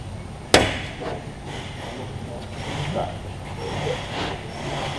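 A large format porcelain tile snaps on a Montolit cutting table with one sharp, loud crack near the start, followed by quieter handling knocks while people talk nearby.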